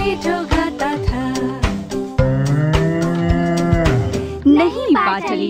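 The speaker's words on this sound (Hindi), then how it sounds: "नहीं बाटली जो, ये गाय की आवाज है।" A cow moos repeatedly within a Hindi nursery rhyme, loud long lowing calls punctuated by sharp percussive hits over a musical backing, ending with a voice.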